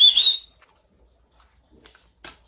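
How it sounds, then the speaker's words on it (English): A pet bird gives a short, bright whistle at the start, followed by near silence with a few faint chirps and rustles. "Sorry for the whistles."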